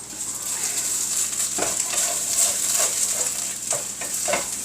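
Chicken tikka masala stirred in a hot pan with store-bought ginger paste and spices, a steady sizzle broken by several scraping, clacking strokes of the spoon, close and fairly loud with no talking.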